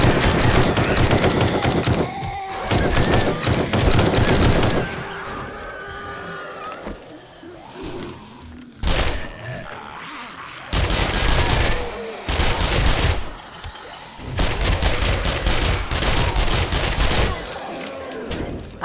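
Repeated gunfire in the zombie survival game 7 Days to Die, loud bursts of rapid shots broken by short pauses, with speech in places between the volleys.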